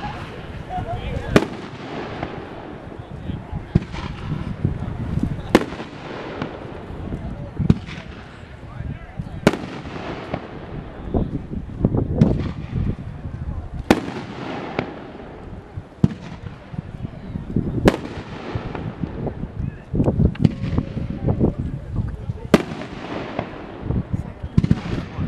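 Large-diameter 500g firework cakes go off in a long series of sharp, loud bangs with crackling tails, some in quick clusters, echoing outdoors while people talk over them.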